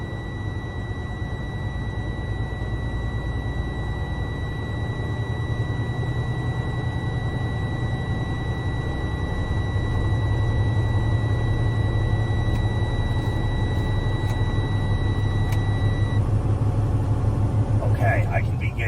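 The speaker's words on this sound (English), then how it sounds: "all I'm going to do is rev the engine 12 to 1400 RPMs" Truck engine revving to 1200–1400 RPM during an air brake test and in-cab inspection, a steady loud rumble that thickens midway, with a high warning-buzzer tone running under it for most of the clip.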